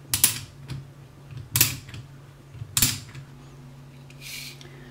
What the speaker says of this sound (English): We're going to use the Alden wrench to expand the tool.